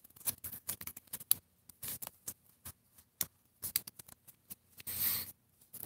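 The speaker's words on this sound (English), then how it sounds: "Fold up those edges." A dollar bill being folded by hand into an origami pyramid: crisp, close paper creases and rustles come in short, irregular bursts, with a longer crinkling rustle near the end and no talking.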